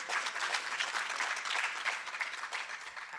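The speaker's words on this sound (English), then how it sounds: "I think we can give them a round of applause again." An audience at an academic research forum on gender-based violence in higher education gives a round of applause, a steady dense clapping that holds evenly for about three seconds without anyone speaking.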